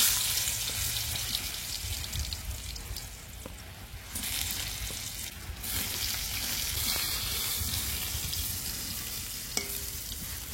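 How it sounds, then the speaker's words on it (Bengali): Parboiled potatoes frying in a pan for a village-style fish curry, a steady close crackling sizzle with occasional stirring scrapes throughout, no voices. "আলু আমি একটু সিদ্ধ করে নিয়েছি, লাল লাল করে ভেজে নেব।"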